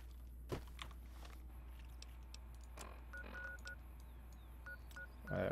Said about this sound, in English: Thanks for the ringtone